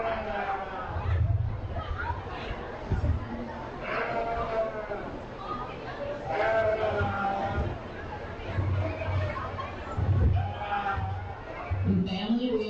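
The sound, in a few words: sheep bleating at county fair show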